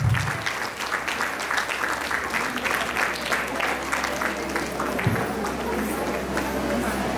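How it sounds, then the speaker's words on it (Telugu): An audience applauds steadily with dense, continuous clapping across the whole stretch, with a low hum underneath. "గట్టిగా చప్పట్లు కొట్టాలి."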